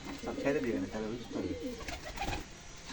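A breeding pigeon kept with its chick coos in soft, rolling, repeated phrases close by, fairly quiet, with faint background noise.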